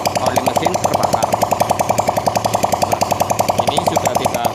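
A four-stroke motorcycle engine with a smoking exhaust and carbon-fouled combustion chamber runs steadily at idle, its firing pulses forming a fast, even, loud knocking rhythm that continues throughout.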